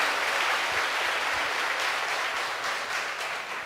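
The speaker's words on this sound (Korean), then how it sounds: "네, 수고해 주신 교수님께 다시 한번 큰 박수 부탁드립니다." Steady, dense applause from an audience at a charity concert supporting heart disease patients, a broad wash of many hands clapping together that slowly tapers off.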